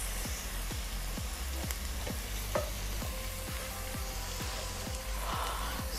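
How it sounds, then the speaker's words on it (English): Rice and beans base with paprika and dried herbs fries in a pot, a dense, steady sizzle close by with regular scraping stirs throughout. "give everything a good mix and allow this to fry for at least a minute or a minute and a half"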